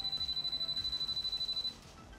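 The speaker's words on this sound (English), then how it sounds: "once you reach that 100 degrees, the gauge will sound its alarm." A JRP Edge Gauge V1.5 sounds its temperature warning alarm as a rapid run of about fifteen even, high electronic beeps that stop abruptly after a moment, fairly quiet and close.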